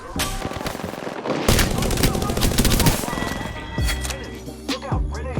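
Rapid automatic gunfire bursts in the video game Apex Legends, loud and dense with overlapping shots, continuing through most of the stretch alongside other game sounds.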